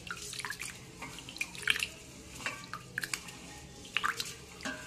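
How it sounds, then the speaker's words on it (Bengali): Rice being rinsed and soaked in water in a kitchen, with soft drips and small splashes falling intermittently at close range and no talking. "এখানে চালটাকে ভালো করে ধুয়ে ভিজিয়ে দিয়েছি"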